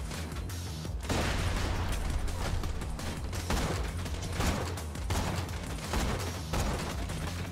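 Dense, continuous gunfire and mechanical clatter from the Borderlands 2 video game, loud bursts of shots overlapping throughout with little let-up and almost no talking.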